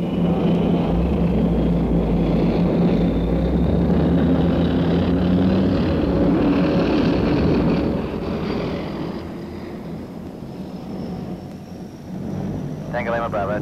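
An aircraft propeller engine drones steadily while taxiing, a loud continuous rumble with a faint rising whine, easing somewhat toward the end as a voice talks over the radio.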